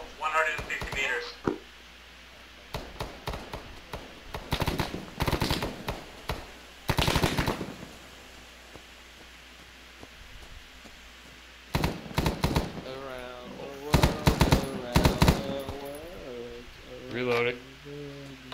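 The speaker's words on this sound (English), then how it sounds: "What are you shooting at, Kale?" Automatic gunfire from a military shooter game: short bursts of rapid shots come in clusters with gaps between them, loud and close, while players talk over the radio in between.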